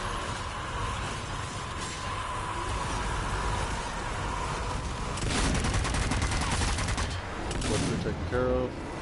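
Machine guns fire in Zombie Army 4: Dead War, a sustained rattling burst of rapid automatic fire swelling midway through over constant game noise, with a voice talking.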